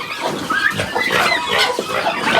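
Pigs squeal and oink at feeding time on a small farm, with overlapping loud grunts and squeals close by in a short, busy burst.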